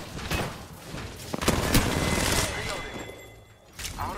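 Repeated gunfire bursts and booming shots from the Apex Legends battle royale game, loud and close, with a rapid fusillade peaking mid-clip over game effects and a voice talking underneath.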